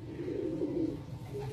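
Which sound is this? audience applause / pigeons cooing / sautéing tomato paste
pigeons cooing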